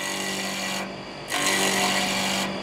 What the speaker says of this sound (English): we'll slow the lathe down so you can actually see what's happening